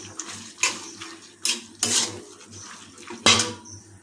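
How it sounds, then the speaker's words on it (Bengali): A metal spatula stirs chicken, potatoes and boiled peas in a wok for chicken ghugni, producing about five sharp scrapes and clanks spaced irregularly over a quiet background. "খুন্তিতে এটাকে আরও কিছুক্ষণ কষিয়ে নেব কড়াইতে"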